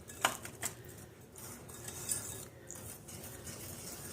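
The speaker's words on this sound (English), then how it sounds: "so you just kind of stir your mix up" Bath bomb mixture stirred in a bowl: a few soft utensil clinks and scrapes against the bowl, close but quiet, over a low steady background.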